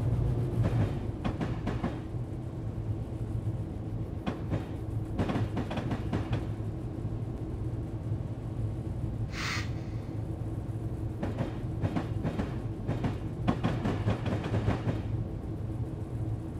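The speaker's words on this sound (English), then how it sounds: "the manufacturer of that train took care of the feeling like a driving a steam train" An NS GP38 diesel locomotive in Train Simulator runs with a steady low engine drone, with repeated clattering bursts from the rails and one brief higher tone midway.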